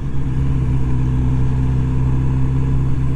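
A new motorcycle's engine drones steadily while riding, a loud continuous low hum with wind rumble and no clear revving, heard from close on.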